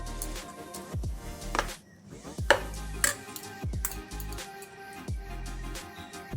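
A knife chops curry leaves on a board, making several sharp, irregular taps and clacks with short gaps between them, quiet and close.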